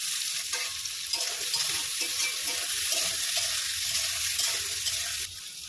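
Sliced onion and potato fry in oil in a pan for a Bengali taro and rohu curry, giving a steady, close, loud sizzle with scattered crackles and faint stirring scrapes throughout, with no talking.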